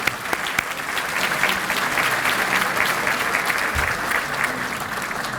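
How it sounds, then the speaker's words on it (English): Audience at a city State of the City event applauding board members, sustained dense clapping throughout, fairly close and even in loudness. "let's give all of our board members a round of applause."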